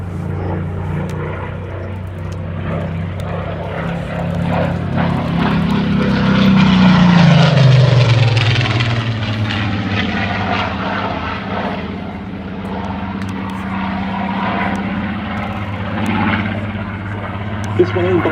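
Spitfire fighter in Indian markings flying at the IWM Duxford D-Day anniversary airshow, its propeller engine droning loudly and rising to a peak as it passes, then fading while a commentator talks over it.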